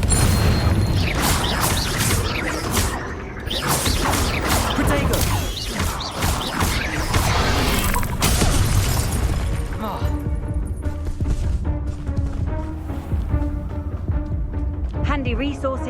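Spell blasts including Confringo explosions in the Hogwarts Legacy video game, a dense run of booming, crashing impacts during the first half, then a calmer stretch with softer effects and music, loud throughout.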